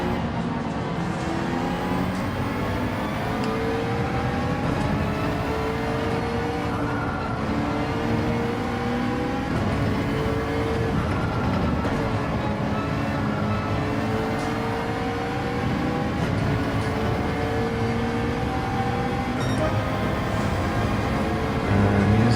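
McLaren 650S Gr.3 race car in Gran Turismo 7 during an online daily race, a loud continuous engine roar with rising and falling revs through gear changes.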